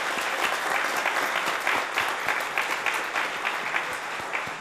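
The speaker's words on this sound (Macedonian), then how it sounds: "би сакал со уште еден аплауз да ги поздравиме сите говорници до сега" An audience applauds the speakers at a debate event, with steady, dense clapping from a sizable crowd that holds at full strength for several seconds.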